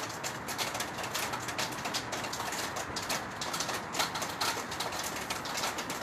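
Heavy rain and gusting wind in Michoacán, Mexico, a steady dense wash of noise with crackling patter holding at an even level throughout, close and constant with no talk over it.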